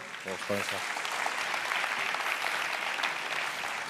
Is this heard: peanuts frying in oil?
no